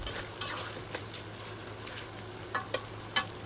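Potatoes and garlic fry dry in a pan for a slow-cooked kala bhuna, a soft constant sizzle broken by occasional clinks and scrapes of a spatula, no speech.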